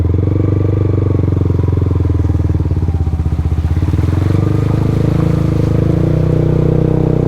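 A loud, close motorcycle engine chugs and revs steadily, with a rhythmic putter and some clatter as it pushes through deep flood water.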